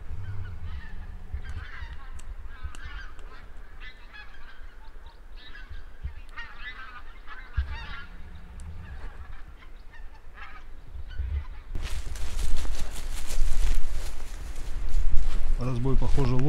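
Wild geese honk in flight over taiga during a hunting trip, repeated calls throughout at moderate distance, growing louder and denser toward the end, with someone talking quietly over them.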